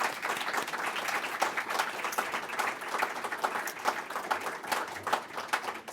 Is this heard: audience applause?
yes